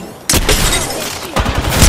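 Loud bursts of rapid gunfire ring out close by in an Apex Legends match on PS5. Two sharp onsets are followed by sustained crackling shots and booms, with no clear speech.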